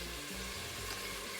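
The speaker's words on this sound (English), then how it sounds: "instead of the heat matching and keeping the sizzle high, it sort of dulls and then it has to build back up again" Lamb curry with fenugreek and silverbeet frying in a pot on high heat gives a steady, close sizzle with soft crackling and stirring noises, heard alone without talk.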